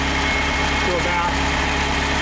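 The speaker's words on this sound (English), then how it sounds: "I'm going to give it a couple of revs now" A 1985 Ferrari Mondial QV engine runs close and loud at warm idle with a steady, throbbing mechanical hum that holds constant throughout, and no talk.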